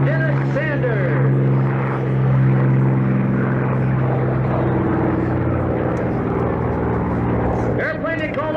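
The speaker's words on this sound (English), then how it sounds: "flying another Hawker Sea Fury with the blue camouflage paint" A Hawker Sea Fury propeller plane in blue camouflage paint, race number 924, flies at the 1990 Reno Air Races, its engine droning loud and steady with a shifting pitch as it passes, while a commentator talks over it.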